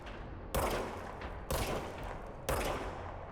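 Three heavy, evenly spaced gunshots from the service weapon in the game Control, each a sharp loud blast with a trailing decay, about a second apart.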